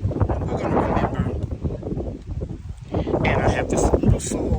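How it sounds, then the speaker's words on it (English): Wind blows outdoors in a container garden, buffeting the microphone in uneven, rumbling gusts that rise and fall, loud and close. "It's so windy"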